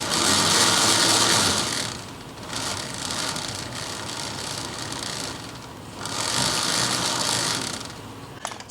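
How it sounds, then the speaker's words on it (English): A Bounder motorhome tire is spun up to full speed for a wobble check, making a loud, rough mechanical whirring and rattling that surges, eases off, then swells again, close and with no voices. "So I'm going to reach up here and spin up the tire"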